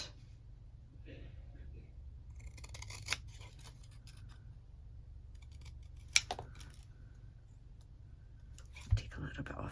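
Scissors trimming a scrap-card tag at a craft table, a few quiet snips and clicks spread across a low background hum, with faint speech at the edges.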